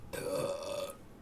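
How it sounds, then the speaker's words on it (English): A single loud, drawn-out burp lasting close to a second, heard up close and on its own after a meal of rice and beef ribs. "I shouldn't be burping like that."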